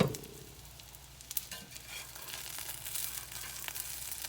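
A vegetable omelette cooks under a lid in an iron skillet, giving a soft, continuous sizzle with a few small pops. It sounds quiet and close, with no talk.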